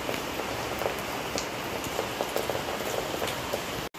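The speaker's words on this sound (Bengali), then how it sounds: "এখন বৃষ্টি নামার কোনো মানে হলো?" Rain falling on sheets hung out to dry, a dense steady patter of drops striking surfaces nearby, with scattered louder individual splats, heard alone without voices.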